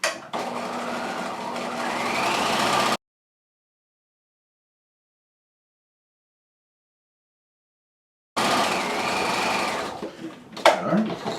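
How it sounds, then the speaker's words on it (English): A sewing machine stay stitches over an open center back seam on a jacket hem facing, running steadily for about three seconds, falling silent, then whirring again near and loud before stopping with a few soft handling knocks. "I'm just going to quickly stay stitch it"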